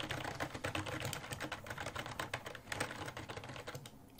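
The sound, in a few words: typing on a Razer Cynosa Chroma keyboard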